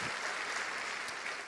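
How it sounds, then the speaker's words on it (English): A conference audience at a real estate event gives a sponsor a round of applause, steady and moderately distant throughout a brief stretch. "So if we can give her a special round of applause."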